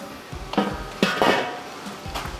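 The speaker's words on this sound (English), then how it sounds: "I'm gonna get this grill lid on." A metal lid settles onto a Weber charcoal grill with a few short clanks and a scraping knock, close by, over a low background hiss.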